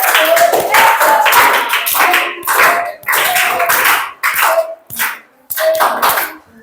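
Children in a classroom clap in unison in a few loud, rhythmic bursts of sharp hand claps, each burst separated by brief pauses.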